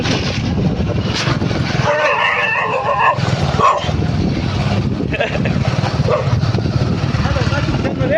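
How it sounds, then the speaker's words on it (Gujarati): Dogs bark a few times amid the rumble of a moving vehicle, with people talking over the noise. "આપણે કૂતરા દોડાવવાના છે"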